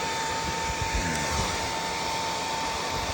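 Hair dryer blowing steadily on cool setting over straightened colored hair, a continuous loud whooshing airflow with a constant motor hum and no voices.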